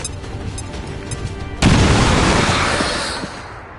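A frag grenade goes off in the turn-based strategy game XCOM 2, a single loud, close blast that cuts in sharply and then rolls out into a long, slowly fading roar.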